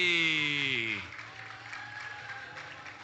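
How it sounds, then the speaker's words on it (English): A voice trails off, then a room audience at the 2023 NAPF Regional Championship in the Cayman Islands applauds a departing flight of competitors, steady and fairly soft in the distance. "one more round of applause for Flight B."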